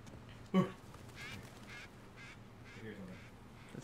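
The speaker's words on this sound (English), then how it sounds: "It's probably just a bird." Bird call in the game Uncharted 4, a single short loud honking quack near the start, followed by quieter background ambience and faint voices.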